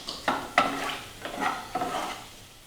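Cashews frying in a quarter cup of ghee in a kadai, with a few soft stirring scrapes and clinks of a spoon against the pan over a quiet, low sizzle, close by.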